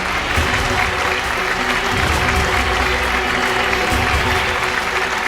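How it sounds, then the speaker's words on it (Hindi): An audience at a stage event applauds a woman invited up to receive her bungalow, a dense, steady roar of many hands clapping throughout, close and loud. "जोरदार तालियां।"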